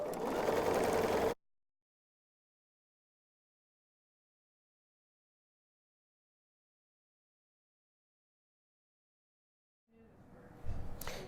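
Sewing machine chain piecing fabric squares, a loud, rapid mechanical stitching whir for about a second, then long silence, before the machine resumes near the end.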